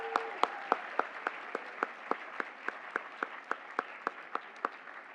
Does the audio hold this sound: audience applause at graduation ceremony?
yes